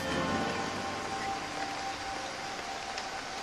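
Steady rain pours down in a dense, hissing wash, constant and enveloping with no voices.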